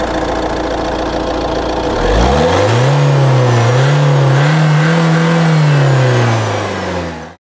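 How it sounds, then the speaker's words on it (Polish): A 2018 Nissan Qashqai 1.6 dCi 130 hp 4x4 diesel engine revs up from a low idle, its pitch climbing and holding high before easing off, loud and close with no talking. "reaguje na dodanie gazu w odpowiednim momencie i może na lajcie wskoczyć na 5000 obrotów na minutę"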